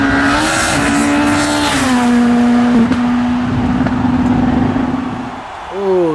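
A Hot Wheels Escort Rally diecast car runs down a rally-themed racing track, giving a continuous rolling whir with a steady tone that shifts in pitch as it travels, then fades near the end.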